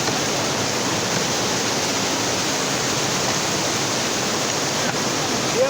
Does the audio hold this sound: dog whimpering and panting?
no